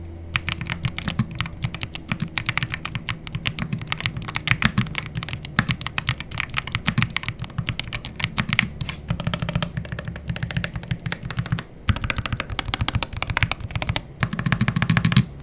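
Steady, dense clatter of typing on a Pwnage Zenblade 65 mechanical keyboard, close and loud, with rapid continuous keystrokes and a brief pause near the end before typing resumes.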